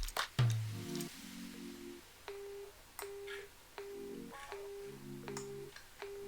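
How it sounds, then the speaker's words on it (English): A telephone line gives a busy signal after a number is dialed: repeated short, clear beeps in an even on-off rhythm, close and fairly loud, with no talking. "The phone number is engaged."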